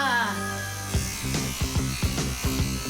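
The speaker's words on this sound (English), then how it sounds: "That's your father's toothbrush." A cartoon electric toothbrush buzzes in a steady motorized drone, with a rhythmic series of knocking thumps about every half second over the whir, close and loud.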